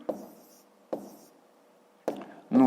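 Numbers being written by hand on paper, three short separate scratchy pen strokes spaced about a second apart, close and quiet, with a brief voice at the very end.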